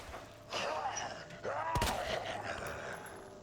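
Gunshots fired at an enemy in Resident Evil 2, two loud sharp blasts about a second apart amid game ambience and effects.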